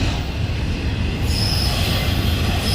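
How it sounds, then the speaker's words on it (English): A train rolls steadily past with its wheels crossing a loose rail joint, giving a loud, continuous rumble and a thin high squeal, with no distinct rhythmic clunks standing out. "You can hear the bumping. That's him going over that thing. It's a rail joint, I believe."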